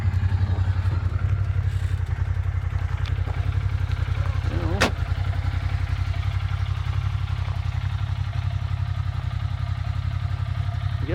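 A Wildcat 1000 side-by-side engine idles steadily while warming up, a constant low rumble that stays close and even with a brief faint rattle partway through.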